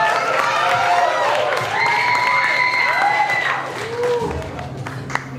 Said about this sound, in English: Give another applause to Jacob Fashion.